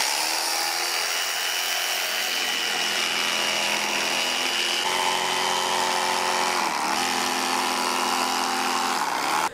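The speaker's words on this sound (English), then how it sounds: "So on this replacement foam, I found that the grinder worked better." A power grinder whines steadily while shaping replacement foam for a Triumph Bonneville motorcycle seat, its loud, continuous tone shifting in pitch as the load changes, with no talking.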